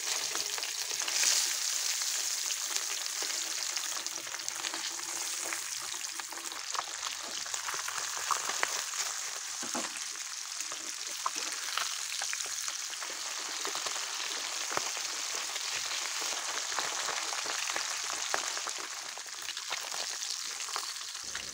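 Pabda fish frying in mustard oil, both sides browning in a pan, a long steady crackling sizzle like light rain, close but moderate in volume with scattered pops and stirring, no voices.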